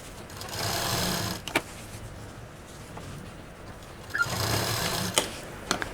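Sewing machine stitching piping onto quilted fabric pieces for a multi-use hanger, running in two steady bursts of motor whir with a quiet pause between and a few sharp clicks, close and loud.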